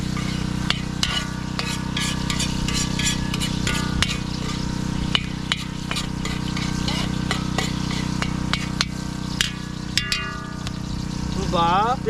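Garlic fries in a pan with a steady close sizzle, broken by scattered sharp clicks of a utensil scraping and stirring, with a low hum running underneath throughout.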